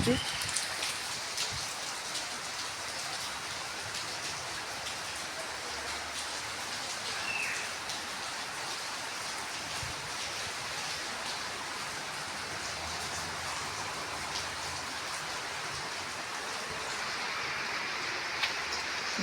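Heavy rain pours down steadily in Bhubaneswar, India, a dense continuous hiss of drops striking surfaces, unbroken throughout.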